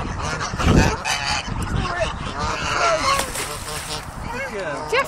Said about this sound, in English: The goose is coming.